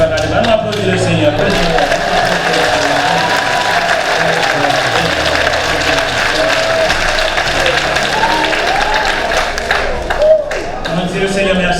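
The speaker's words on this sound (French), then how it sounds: "On applaudit le Seigneur." A church congregation at a harvest service claps together at length, loud and dense, with voices and some tonal music or singing mixed in beneath the clapping.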